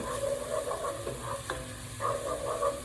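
Cumin seeds and onions stirred as they fry in a pot, a steady low sizzle with soft scraping strokes and a sharper clink of the spoon partway through, close and moderately quiet with no talking.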